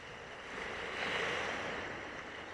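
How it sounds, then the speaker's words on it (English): Cross waves on a river heard from a paddleboard, a steady broadband wash of water that swells slightly in the middle, with some wind noise and no talking. "you've got these cross waves coming from behind you, across you"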